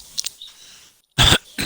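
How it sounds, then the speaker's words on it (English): A person clears their throat close to the mic in a short, harsh burst after a near-silent stretch, with a softer rasp just before and another starting at the very end. "sorry for clearing my throat"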